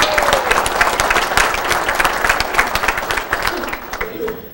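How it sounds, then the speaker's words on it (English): A room of attendees at a foundation event breaks into a round of applause, dense clapping with some crowd noise and voices mixed in, loud and continuous. "Let's have a round of applause."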